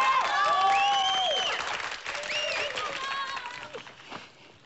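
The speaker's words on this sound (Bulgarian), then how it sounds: "Ти на кого ръкопляскаш?" Applause from an audience in a Bulgarian televised show, steady and fairly loud at first, then thinning and fading toward the end, with no talk over it.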